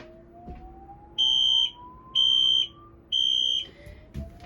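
Fire alarm horn on a test system without a panel, blaring three loud, even, high-pitched electronic blasts of about half a second each, spaced roughly a second apart, close by over a faint rising tone.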